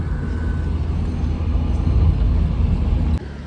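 A taxi being driven through Mumbai, a steady low engine and road rumble heard from inside, with a brief sharp clunk near the end and no voices.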